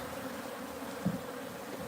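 Honey bees from a wild hive being moved to a new home hum in a steady, faint buzzing drone, with one brief louder bump partway through.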